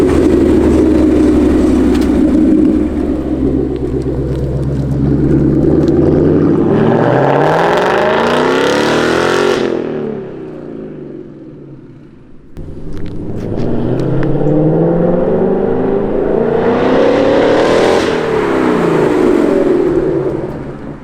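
A 2020 Ford Mustang GT V8 fitted with a Borla ATAK exhaust roars loudly, its engine note climbing through two long pulls and dropping back between them, with a deep rumble at idle.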